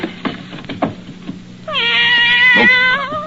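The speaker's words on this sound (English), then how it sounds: "A cat in my desk." Cat meowing in an old radio drama: a single drawn-out, wavering meow rises after a few soft thumps and rustles, loud and close, ending the short scene.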